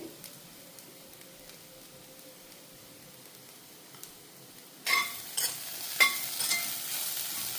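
Seeds frying in a pan over a high flame with salt and coconut powder added: a soft, steady sizzle that gives way after about five seconds to louder bursts of stirring and scraping.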